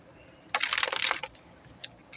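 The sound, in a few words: shuffling a brand new deck of cards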